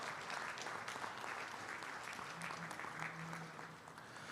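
Audience applause ringing out at a Holstein cow show at a state fair, a steady patter of clapping lasting several seconds, faint and fairly distant, with a little background talk.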